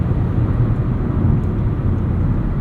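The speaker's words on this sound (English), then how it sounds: "There's a little bit of wind and tire noise" Steady low rumble of tire noise and wind inside a moving 2025 Chevrolet Trax 2RS, constant and moderately loud, with no talking.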